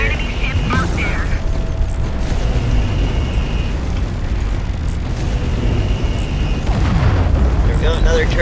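Inside a space video game, a turret generator blows up with a heavy, rumbling boom, surrounded by continuous loud, crackling, dense explosions and mechanical game noise as a voice talks over the action.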